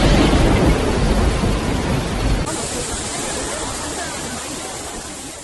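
Hailstorm in Beijing with thunder and heavy rain: a loud rumbling crash in the first seconds, then a steady dense roar of rain and hail that gradually eases.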